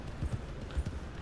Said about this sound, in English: Andalusian horse, female,